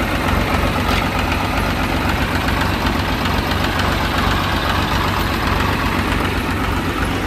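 Diesel engine of a Mahindra Arjun Novo 605 4WD tractor runs steadily at a loud, close idle, with a continuous knocking rumble throughout and no voices over it, at a muddy field spot where it was called in to pull out a stuck Swaraj 735 FE with trolley.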